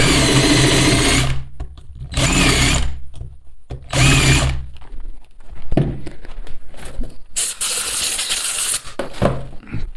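Bursts of an electric drill boring recesses with an 8 mm bit into carburetor parts during a Solex carburetor rebuild, three loud whirring runs separated by pauses, then lighter clattering and handling noises.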